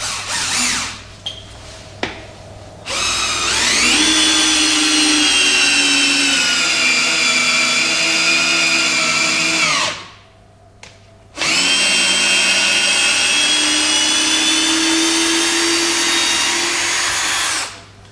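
A Festool cordless drill-driver whirs loudly up close in two long sustained runs with a short pause between, driving an old screw under steady strain in first gear.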